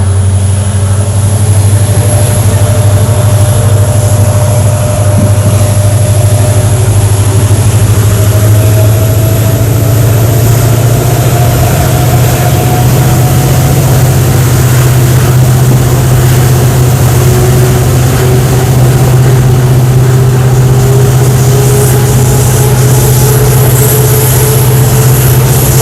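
A WDP4-class diesel locomotive pulling out on a single-track line between Mangaluru Central and Subramanya Road, its deep engine drone steady and loud with a slowly rising whine as it gathers speed, no voices.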